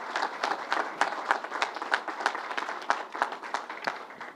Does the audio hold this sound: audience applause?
yes